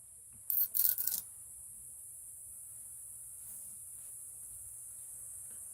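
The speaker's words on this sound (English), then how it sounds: "the cicadas are so loud" A steady, high-pitched insect drone fills the background, thin and continuous, with a brief burst of scraping rustle near the start.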